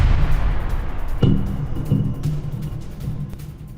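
After drone debris falls onto a building in Moscow, a single distant explosion booms out over a low continuous rumble, followed by a fading roll of echo.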